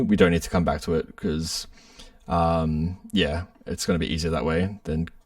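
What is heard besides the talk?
None of the usual background noises is heard.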